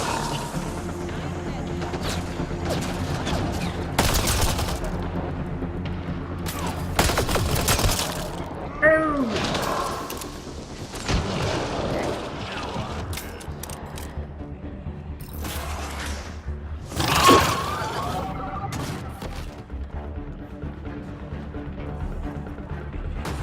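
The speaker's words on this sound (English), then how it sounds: "Have I switched back to the assault rifle?" Assault rifle fire in Mass Effect: Andromeda comes in intermittent bursts of sharp shots over a busy layer of combat sound and music. Someone talks at times between the volleys.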